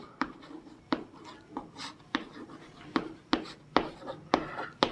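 Pen strokes scratching on paper while a ratio problem is written out, a series of sharp, crisp marks in an uneven rhythm, close and clear, with a quiet room hum beneath.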